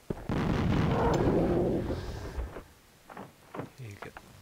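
Triple shot attack in the King's Bounty strategy game, a loud booming volley of blasts at the start followed by several shorter, quieter impact thumps.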